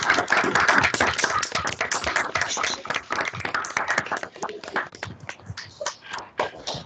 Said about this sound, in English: So please unmute yourself and give them an applause.